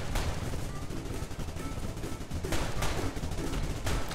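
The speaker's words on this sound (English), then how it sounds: "These guys are shooting." Dense, continuous gunfire from enemies in the twin-stick arcade shooter Blamdown: Udder Fury, with rapid bursts and shots stacked over heavy game noise, loud and unbroken throughout.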